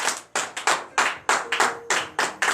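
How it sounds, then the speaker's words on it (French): A congregation claps in a rhythmic series of sharp bursts during a morning prayer service, with brief pauses between groups of claps and no talk over them. "Donnez l'acclamation à notre Seigneur Jésus."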